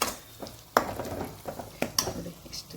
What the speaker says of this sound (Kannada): ಎಣ್ಣೆಯಲ್ಲೇ ಫುಲ್ಲು ಚೆನ್ನಾಗಿ ಫ್ರೈ ಆಗಿ ಬಿಡ್ಕೋಬೇಕು